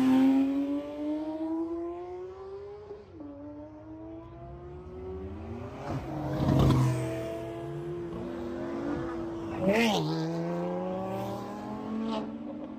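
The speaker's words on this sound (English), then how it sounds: "GT3 is about to do a flyby." A GT3 sports car makes a fast flyby on a Los Angeles canyon road, its loud engine climbing through several gear changes and falling in pitch as it passes close by and then fades.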